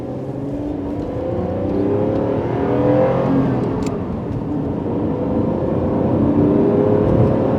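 A 2011 Lotus Evora sports car engine revs and settles, rising and falling in pitch with a smooth whirring drone, close and steady with no voices.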